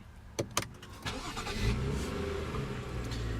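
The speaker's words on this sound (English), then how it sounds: "And what you're hearing there is a 3-liter 6-cylinder turbo." A 2016 BMW 535i 3.0-liter six-cylinder turbo engine cranks and fires up after a couple of sharp clicks, then settles into a steady, low idle rumble nearby.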